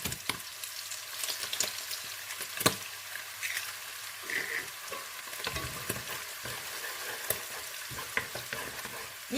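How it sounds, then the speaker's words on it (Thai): Egg frying in a pan alongside squid and shrimp for seafood fried rice, a continuous close sizzle with frequent stirring scrapes and small taps. "จากนั้นเพื่อนก็จะใส่ไข่ลงไปเลยค่ะ"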